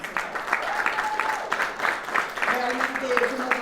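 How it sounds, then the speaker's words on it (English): Audience applause at a government event, steady clapping from a crowd, with a voice speaking over it. "So please give all of these folks a round of applause in terms of that."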